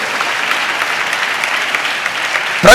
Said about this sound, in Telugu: చప్పట్లు కొడితే సైకు స్తోత్రాలు చెప్దాం